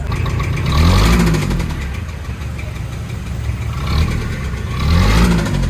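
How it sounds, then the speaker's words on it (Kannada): An old Toyota Qualis with a diesel engine that has faults, idling after a start, a loud close rough rumble that rises and falls in slow swells twice, with no talk over it. "ಸೊ ಈಗ ಇದ್ರದ್ದು ಇಂಜಿನ್ ಸೌಂಡ್ ಈ ಥರ ಬರ್ತಾ ಇದೆ"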